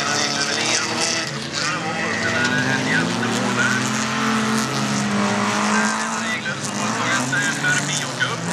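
Folkrace cars tear around a dirt track at a women's X-Cup final in Söderhamn, engines roaring loud and continuous with revving and tyre noise, while a commentator talks over the racing throughout.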